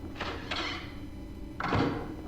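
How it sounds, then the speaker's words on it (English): A door opens in the video game Silent Hill, heard as a few short creaking, sliding scrapes and a soft thunk against a quiet, dim background. "When I open that door."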